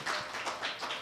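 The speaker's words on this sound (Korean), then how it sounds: "박수로 맞아주시기 바랍니다" Audience applause at an environmental policy symposium in Korea, welcoming a consulting firm speaker to the podium: a brief, even wash of many hands clapping, moderately close and without talk.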